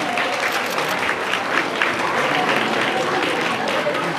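Audience applause fills a press conference as eight performing artists, including CNBLUE, U-KISS, BTS and NU'EST, gather on stage; dense, steady clapping runs throughout with crowd noise and a voice faintly underneath.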